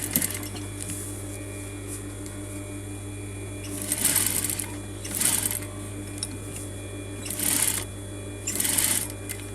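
A sewing machine stitches a coat collar close by, running in several short bursts of rapid needle clatter separated by quieter pauses over a steady low motor hum.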